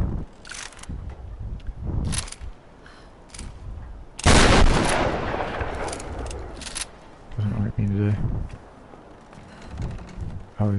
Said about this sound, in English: We have shotgun, so going down here to blast these places apart.